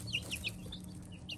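Young chicks of uncertain sex give short, high peeping clucks, several quick calls in an irregular rhythm, heard close but faint over a low background hum.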